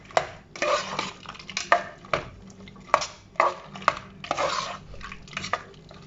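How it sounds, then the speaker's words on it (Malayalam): Vegetable kurma cooked without oil being stirred in a pot, a close series of rhythmic scraping and clinking strokes of a spoon against metal with brief pauses between them. "ഇനി ഇതൊന്ന് നന്നായിട്ട് ഇളക്കി കൊടുക്കാം"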